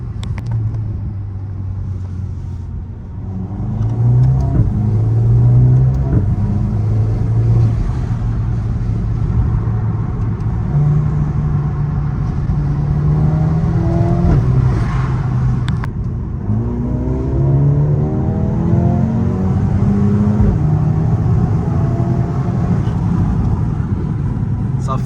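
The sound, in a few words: Mercedes-AMG CLA 45 S engine revving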